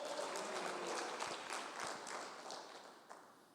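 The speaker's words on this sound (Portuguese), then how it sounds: "As palmas para ele" A church congregation claps together in a sustained, fairly even wave of applause that carries on throughout at a moderate distance, with a few sharper claps near the end.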